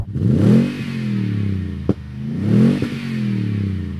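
A Toyota Tundra pickup with a six-speed automatic transmission revs its engine twice, each time climbing to a loud, close roar and then falling back to a steady idle, with a sharp clunk between the two revs.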